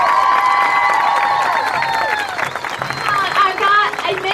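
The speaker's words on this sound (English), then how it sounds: "Let's give him another round of applause." A crowd at a charity race event claps and cheers for the grand marshal, with whoops, children's shouts and chatter mixing in and the applause swelling again toward the end.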